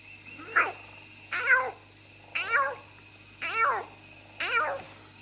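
A human voice imitates a cat meowing, giving five separate drawn-out meows at a steady pace, close and clear over a quiet background hum.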